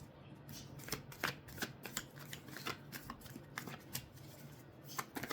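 Close, quiet shuffling of tarot cards, with soft riffles and sharp flicking snaps in an uneven rhythm throughout and no voice.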